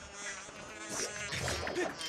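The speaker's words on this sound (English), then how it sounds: "Where are these wasps coming from all of a sudden?" Wasps swarm in Zelda: Skyward Sword HD, a dense insect buzz with whining wingbeats close by, growing louder in the second half, and no talking.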